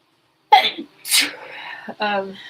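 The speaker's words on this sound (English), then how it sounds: "I'm going to sneeze." A single sharp sneeze bursts out after a brief quiet intake, followed by a short vocal sound and a few spoken words.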